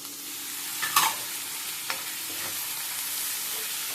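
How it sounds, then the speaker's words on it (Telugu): Tomatoes go into a frying curry pan with ginger paste and get stirred, bringing a soft, steady sizzle broken by a few sharp scraping clinks of the spoon, close and quiet with no talk. "ఇప్పుడు టమాటా వేస్తాము."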